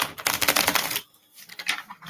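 Stiff tarot cards are shuffled close up in a quick, dense flurry of crisp riffling for about a second, followed by softer, sparser card rustles.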